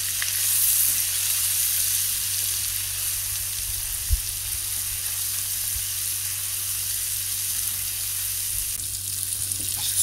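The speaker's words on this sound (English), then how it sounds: "So stir everything together just to coat potatoes." Boiled potatoes frying in a curry sauce for Bombay potatoes, a loud, steady close sizzle with an occasional soft knock of the stirring spoon, no voices.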